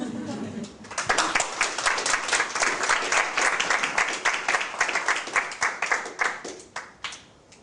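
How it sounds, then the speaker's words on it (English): A lecture audience gives polite applause, clapping that swells after a brief pause, holds steadily, then thins into a few scattered claps before fading out. "polite applause"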